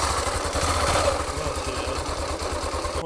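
A Honda CBF 250cc motorcycle engine runs in first gear on a hill, putting out a steady, close, rapid thumping idle with a mechanical clatter throughout and no voices.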